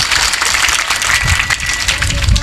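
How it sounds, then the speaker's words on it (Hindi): Dense audience applause at a school event, a steady wash of many hands clapping together at moderate volume, with no talking over it. "जोरदार तालियां बजाओ।"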